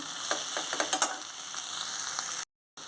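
Taro curry stirred in a pan after salt goes in, giving a steady soft sizzle with a few light spoon scrapes, then a brief silent gap before the frying sound resumes.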